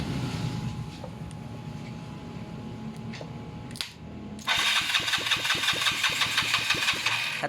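A Yamaha Mio motorcycle engine turning over during a start attempt, a low rough churn followed by a louder burst of rapid, rhythmic pulsing from the electric starter and engine, close and steady with no talk.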